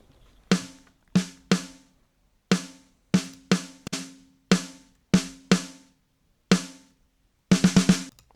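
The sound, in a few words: pop punk drums processed with Pultec EQ in Logic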